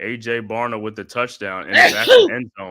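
A sharp sneeze bursts out in the middle of an excited football play-by-play of a Vikings versus Seahawks game, with the commentator's speech running before and after it.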